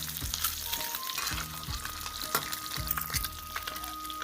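Eggs fry in hot oil in a kadai, giving a steady, loud, close sizzle broken by regular scraping strokes of a stirring utensil, with no voices.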